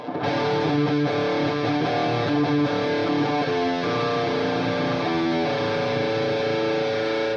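A distorted electric guitar through an Ibanez TS7 Tube Screamer overdrive pedal plays loud, steady overdriven chords and notes, thick and continuous with a gritty edge and no voices.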